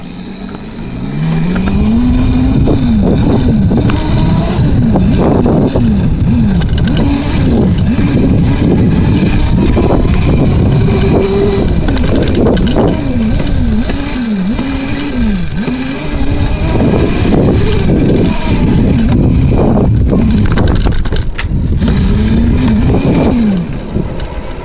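A dirt bike engine rides close and loud for the whole stretch, revving up and down repeatedly as the rider accelerates around a lap.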